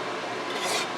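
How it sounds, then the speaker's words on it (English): A blade being honed in a home workshop, a short continuous rasping scrape that rises a little toward the end, steady and close with no voices. "a little honing on that"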